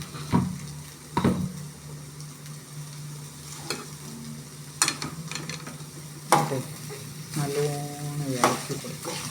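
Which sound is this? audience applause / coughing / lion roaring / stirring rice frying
stirring rice frying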